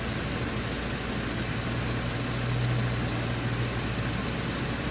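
A 2014 Chevy Cruze engine with a misfire complaint held under brake torque, a steady droning idle with a slight rise in revs midway, close and continuous with no talking.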